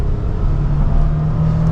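The engine of a 2023 Nissan Frontier PRO-4X pickup pulls under acceleration, a loud, close, steady low drone with a faint rising hum and no talking.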